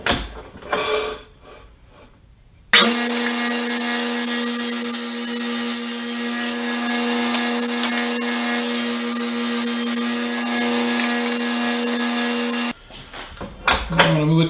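A saw cuts wood stretcher pieces for an upholstered ottoman. The cut is loud and steady and runs about ten seconds without a break, with quieter handling noises before and after it.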